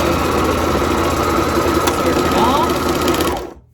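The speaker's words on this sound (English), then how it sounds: "Sergers are all about straight lines." A serger sews a garment seam in straight lines, running as a fast, steady close-up hum and rapid stitching buzz for about three seconds before stopping abruptly.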